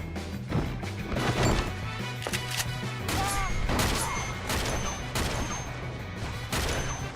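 Rapid sniper rifle fire and impacts in the Uncharted 2 multiplayer game, a loud, dense run of sharp cracks and thwacks repeating across the whole stretch, with no talk over it.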